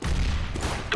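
A grenade going off in a first-person shooter, one loud dense blast filling the whole moment with rumbling low crackle and a sharp burst of debris at the end.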